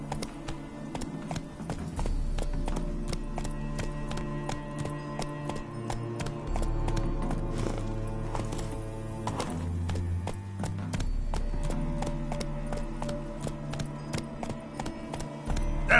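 Hooves of the horse Roach galloping in The Witcher 3: Wild Hunt on PS4, a rapid, rhythmic clip-clop of hoofbeats that continues steadily over a low musical score.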